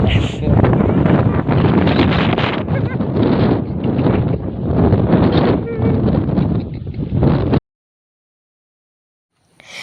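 Strong, misty wind buffets the microphone on the Parunthumpara hilltop, a loud, unbroken roar lasting about seven seconds before cutting abruptly to silence.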